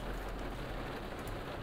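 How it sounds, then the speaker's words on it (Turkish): Steady rain falling heard from inside a bus, a dense continuous hiss of drops drumming on the surface with a low rumble beneath, even and fairly loud throughout, with no talking. "Yağmur yağıyor."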